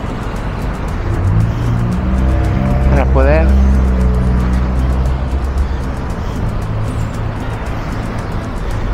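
Cars pass on a busy street in El Palmar, Santa Ana, with steady close traffic rumble and one vehicle sweeping by loudly, while people talk over the noise.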